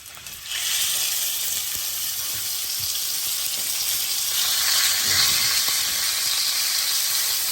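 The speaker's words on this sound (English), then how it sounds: "now we're gonna go in these pork chops" Pork chops sear in a hot pan with a loud, steady, close sizzle that swells as the meat settles into the oil, with no talking over it.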